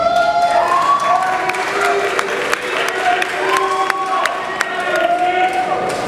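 Audience applause for a candidate at the Miss Baie-Mahault pageant presentation evening, a steady wash of clapping and crowd noise lasting throughout, with a voice heard over it.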